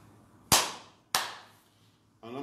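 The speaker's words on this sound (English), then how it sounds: "I'm saying a clap that makes the imam understanding that there is a mistake in the salah." Two sharp, separate hand claps ring out in a quiet room, spaced about half a second apart, each with a short reverberant decay, signaling a mistake to an imam during prayer.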